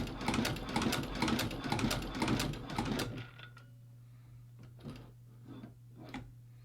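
YaeTek hand-cranked cobbler's leather sewing machine stitching, a quick run of rhythmic mechanical clacks for about three seconds, then a few slower separate clicks over a low hum.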